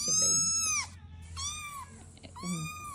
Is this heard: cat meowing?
yes